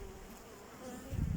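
Honeybees buzz in a faint, steady drone around an opened beehive during a hive inspection, with a low rumble swelling near the end.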